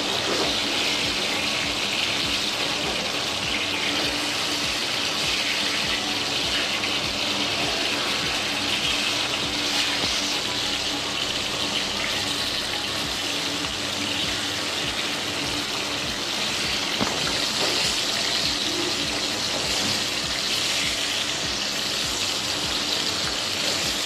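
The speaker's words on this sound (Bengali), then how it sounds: "আমি মাছগুলো এপিট করে ভেজে নিচ্ছি, খুব কড়া ভাজবো না" Hilsa fish pieces frying in oil in a pan, a steady dense sizzle and crackle running continuously at close range with no talk.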